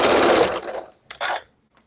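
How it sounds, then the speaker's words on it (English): A sewing machine stitches pieces of a Hunters Star quilt in two close bursts, one longer run and then a short one, with a quiet gap between them and no voices. "Not usually used to sewing this slowly, but with this pattern, I find myself sewing a little bit slower than I normally would"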